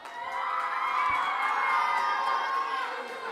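A crowd of children cheers loudly at a live show, a sustained swell of shouting and whooping that builds, holds and then tapers over a few seconds.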